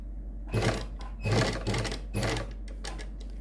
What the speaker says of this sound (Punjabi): ਇਸ ਤੋਂ ਬਾਅਦ ਆਪਾਂ ਇੱਥੇ ਸਲਾਈ ਲਾਵਾਂਗੇ